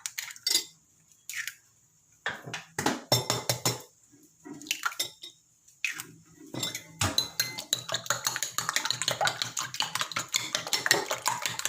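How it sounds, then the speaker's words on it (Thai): Two eggs being beaten in a bowl, with rapid, continuous clinking and scraping of a utensil against the bowl building into a steady rhythm after several short, separate bursts, close up and fairly loud, with no talk. "แล้วที่สิงก็จะไปตีไข่ค่ะ จะใส่ไข่สองหน่วยด้วยจ้ะ"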